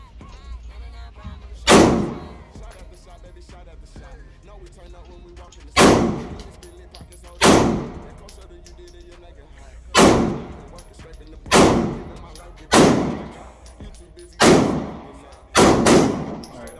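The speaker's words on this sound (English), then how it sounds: "Let me let Adrian get a couple shots in." AR-15 rifle fired at an outdoor gun range: seven sharp, loud gunshots spaced irregularly a couple of seconds apart, each with a short ringing decay, over a quiet ambient background.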